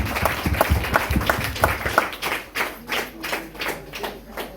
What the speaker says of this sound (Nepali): हामी ताली बजाएर उहाँलाई आशीष दियौँ